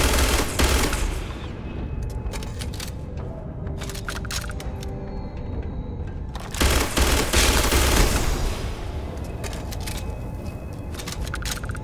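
Gunfire while shooting down a turret in Starfield on ultra settings, rapid bursts of automatic fire in two loud clusters separated by quieter clattering shots and mechanical rattle.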